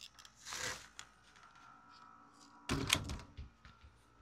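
A door in a beach resort hotel room swings shut with a soft rustle and then a firmer thud, close by and fairly quiet, with no talking.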